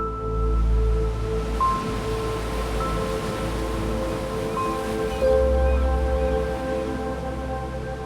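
Rough, angry ocean surf pounding the Sonoma Coast in thick fog, a continuous heavy roar that swells and surges as waves crash, steady and loud with no voices.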